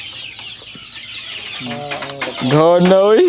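Darag native chickens on a farm in Cebu, including young birds about 1.5 months old, cluck and call in repeated bursts that build louder toward the end, with a brief spoken word early on.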